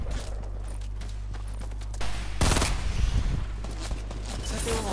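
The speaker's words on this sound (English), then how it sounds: "Somebody was shooting me from behind, I think, as well." Gunfire in the video game Fortnite, a burst of rapid shots that swells loud in the middle of the clip over steady game noise, with no voices.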